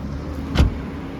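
The hood of a 2001 Infiniti i30t is released, a single short close clunk over a faint steady background hum.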